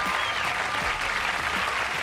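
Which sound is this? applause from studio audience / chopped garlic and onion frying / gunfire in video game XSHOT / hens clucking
applause from studio audience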